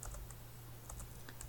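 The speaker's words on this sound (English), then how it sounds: "you get to see how my typing skills are in this little video" Quiet typing on a computer keyboard, a sparse irregular run of light key clicks close up over a low steady hum, with no talking.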